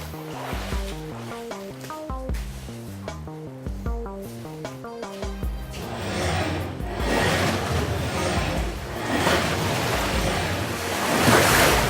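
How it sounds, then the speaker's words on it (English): Waves set going in a university civil engineering laboratory wave tank: after several seconds of tonal music, a steady, fairly loud rushing and sloshing of water takes over and swells slightly toward the end, with no talking. "turn some waves on for us"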